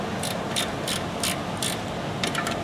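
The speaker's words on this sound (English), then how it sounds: "Got a 16/18 flexi head wrench. We're gonna get these guys loose" A flexi head wrench loosens bolts on a brake line, giving a close, steady run of ratcheting clicks in a rapid rhythm over low background noise, with no voices.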